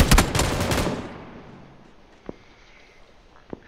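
A burst of loud gunfire from PlayerUnknown's Battlegrounds fades within a second, followed by two sharp, isolated shots or impacts at a distance.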